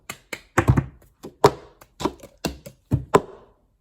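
Plastic cups tapped, slapped and clapped on a tabletop in the cup song rhythm; crisp, close percussive hits and thumps in a steady repeating pattern, played alone without talk.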